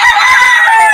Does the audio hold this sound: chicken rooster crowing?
yes